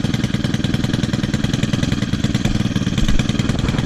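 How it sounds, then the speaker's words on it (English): A four-stroke string trimmer engine runs close by at a steady, fast-pulsing idle, its rough mechanical chug holding even for the whole stretch with no voices. "with it being a 4-stroke engine, it's much quieter than any of these 2-stroke trimmers"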